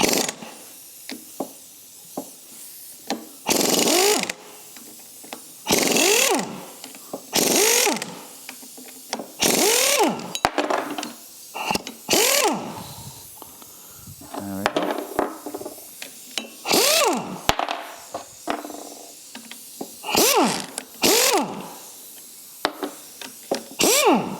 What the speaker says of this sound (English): And now let's undo the nuts and bolts.